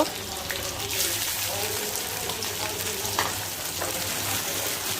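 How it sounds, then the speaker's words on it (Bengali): Onion, green chilli and chopped tomato fry in oil in a pan for Maggi noodles, giving a continuous close sizzle with occasional stirring scrapes. "এখন একটু ভেজে নিব"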